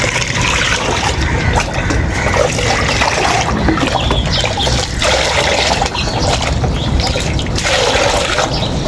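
Steady, loud sloshing and trickling of water mixed with ginger runs continuously, like liquid being stirred and poured, with no voices.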